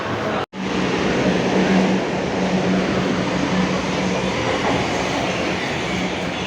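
A Kolkata metro train rumbles steadily and loudly through an open-air station, its continuous roar and rail noise filling the scene without a break after a brief cut at the start.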